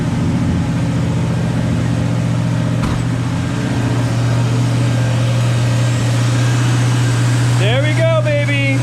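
A 1965 Ford Fairlane 500 289 V8 engine idles slightly high with new spark plug wires, a steady, low, even rumble close by, running without pause; a brief squeak comes near the end.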